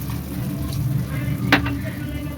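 Meat stock poured into chicken frying in a pan for chicken bharta, giving a steady close sizzle with a brief splash and a louder burst partway through.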